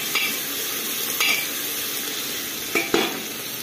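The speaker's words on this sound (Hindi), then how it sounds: "अब इसमें हम लोग लहसुन अदरक का पेस्ट डालेंगे, थोड़ा इसको चला लेंगे हम लोग" Garlic ginger paste sizzling in a pan for mushroom curry, a steady close frying hiss broken by a few sharp scrapes and clinks of stirring, no talking.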